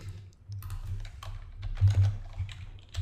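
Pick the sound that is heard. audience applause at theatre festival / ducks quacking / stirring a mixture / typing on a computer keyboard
typing on a computer keyboard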